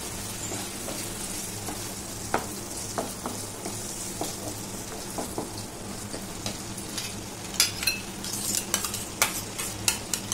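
Chicken tikka masala is stirred in a pan after dried fenugreek leaves go in, giving a soft steady sizzle under a scatter of scraping spoon strokes and taps that grow busier toward the end, with no voices.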